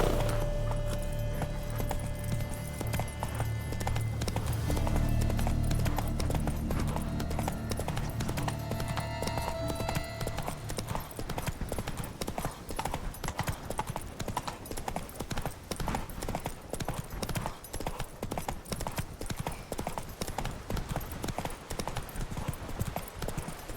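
A horse gallops in The Witcher 3: Wild Hunt, its rapid, rhythmic hoofbeats pounding steadily and loud throughout, with a brief low rumble of other game sound early on.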